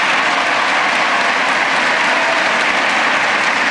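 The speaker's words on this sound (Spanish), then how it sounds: "Un fuerte aplauso del Salón de Honor del Congreso Nacional." Loud, dense applause filling the Hall of Honor of the National Congress during a presidential public address, continuous and evenly sustained throughout.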